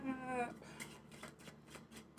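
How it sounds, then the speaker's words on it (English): A brief close riffle of cards being shuffled, a few soft rapid flutters after a short hum at the start. "I'm just going to keep shuffling until they tell me to stop."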